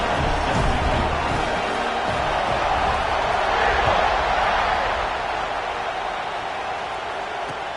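A football stadium crowd at Auburn vs. SMU, around kickoff, makes a broad, steady roar that fills the space and eases slightly toward the end.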